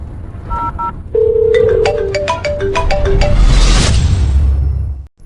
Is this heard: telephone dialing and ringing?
yes